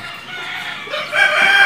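A rooster crows nearby, its call rising and growing louder toward the end, with a steady background of farmyard noise.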